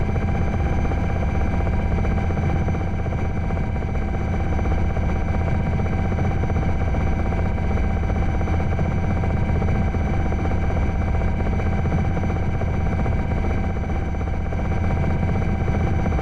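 A UH-60 Blackhawk helicopter flying in Microsoft Flight Simulator 2020, a steady, unbroken engine and rotor drone with a low rumble and constant whine, holding even throughout and no voices.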